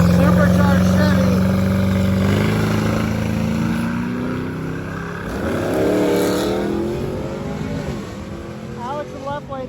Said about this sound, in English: we got the Send It race guys here going down in the supercharged Chevy.